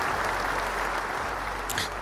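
Steady applause from an audience fills the whole stretch, a dense, even wash of clapping without voices.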